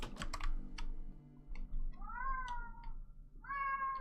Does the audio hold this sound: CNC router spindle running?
no